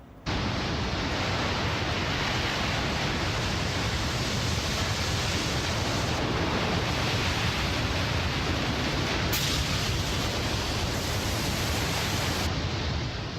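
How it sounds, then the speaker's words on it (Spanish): Huge tsunami waves surge in a continuous, loud, dense roar of crashing water that fills the whole stretch without letup, with no voices heard. "Enormes olas asesinas de una fuerza inimaginable."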